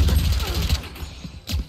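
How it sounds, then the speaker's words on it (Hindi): Rapid bursts of Valorant gunfire crack and thump close by, a loud spray of shots with brief pauses between the clusters. "इसकी गोलियां चलाने की जो आवाज होती है"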